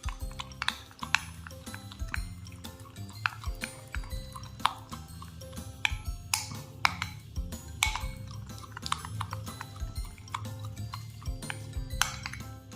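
A red-tinted no-glue, no-borax slime mixture made from kitchen ingredients is stirred in a bowl, giving steady close scraping and clicking with sharp utensil taps throughout, no voices.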